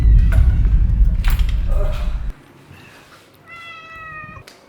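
A cat meows several times indoors, the meows close and clear amid some rustling, then a longer, higher meow near the end after the background quiets.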